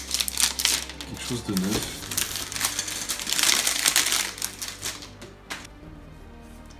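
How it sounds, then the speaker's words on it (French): Crinkling and tearing of packaging while unboxing an iPad Air 2020, close and fairly loud, continuous rustling over several seconds with a voice speaking briefly over it. "J'adore ce son quand on déballe."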